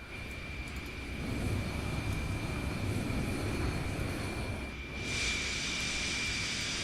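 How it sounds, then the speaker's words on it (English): Lockheed SR-71 Blackbird jet engine starting up in a flight simulator: a steady rising roar with a constant high whine, swelling and then shifting to a brighter hiss, fairly quiet and continuous with no talking. "There you go, there's the TB lighting up, and the engine starts."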